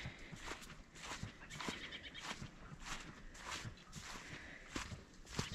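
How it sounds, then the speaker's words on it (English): Steady squelching footsteps through wet slush, close by, in an even walking rhythm with soft splashy crunches on each step. "I can hear the slush under my feet."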